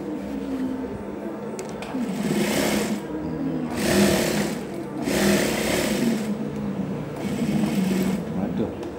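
A sewing machine runs in bursts while stitching a safari shirt, whirring close up in several separate runs of a second or so, with short pauses between them over steady room background.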